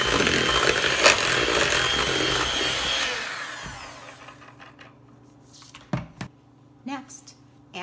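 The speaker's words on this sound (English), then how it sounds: "And again, mix with your electric mixer." An electric mixer whirs loudly and steadily through oatmeal cookie dough with eggs, then stops, leaving a faint hum under a few clinks and bumps.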